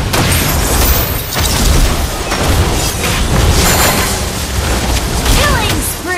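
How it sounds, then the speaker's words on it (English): Turret destruction in Mobile Legends: a dense, loud burst of explosive booms and popping game effects over busy battle sounds and announcer-style voice, with a rising chime near the end. "Your team destroyed a turret!"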